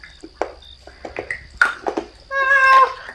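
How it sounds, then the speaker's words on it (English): A cat meows several times in short, close bursts, ending in a longer drawn-out meow, with no talking. "My cat."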